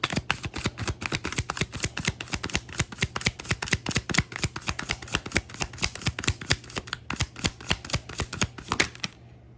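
Tarot cards are shuffled in a long, steady run of crisp, rapid riffling slaps, close and fairly loud, before the sound stops abruptly near the end.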